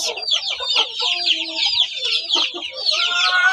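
Chickens cluck and squawk inside a poultry farm, a busy overlapping chorus of many birds close by with a crow-like call mixed in, continuous and fairly loud.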